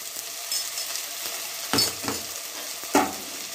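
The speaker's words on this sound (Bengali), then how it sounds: "এবার পেঁয়াজটাকে আমি 2 মিনিটের মতো মিডিয়াম ফ্লেমে একটু ভেজে নেব" Onions fry on a medium flame in a kadai for kadai chicken, a steady hiss of sizzling broken by a few sharp stirring scrapes of a spoon against the pan.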